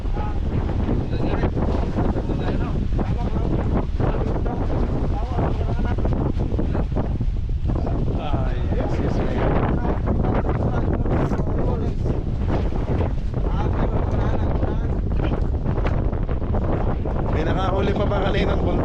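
Strong wind roars across the microphone on a small boat at sea as a storm approaches. The gusts are loud and constant, and water sloshes and the hull rattles beneath them.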